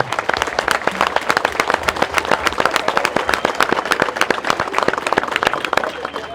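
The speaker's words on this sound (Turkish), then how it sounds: "sesimizi bütün Türkiye'ye duyuran televizyon kanallarına, emekçilerine yürekten bir alkış yapalım." A dense crowd applauds steadily at a Republican People's Party (CHP) political rally in Ayvalık, Turkey; many sharp, overlapping claps sustain for several seconds at a loud, even level, with some cheering mixed in.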